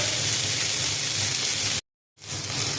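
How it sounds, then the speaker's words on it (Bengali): Pumpkin flowers frying in a pan with shrimp, garlic, chilli, salt and turmeric give a loud, dense hiss of steady sizzle that cuts out completely for a moment, then resumes just as strong. "এই যে সামান্য একটু লবণ আর এই যে হলুদ দিয়েছি, এবার সুন্দর করে ভাজবো এটাকে।"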